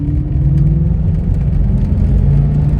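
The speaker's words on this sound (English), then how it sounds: "give her a little gas, see what she does" A fuel-injected 5.0 V8 in a 1984 Ford Thunderbird revs from idle, a close, loud, steady low engine drone that rises slightly under light throttle.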